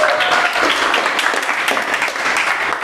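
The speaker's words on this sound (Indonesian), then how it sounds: "Oke, tepuk tangan buat teman-teman." A group applauds classmates at the close of a university teaching session, with continuous, fairly loud clapping that stays even and dense for about three seconds.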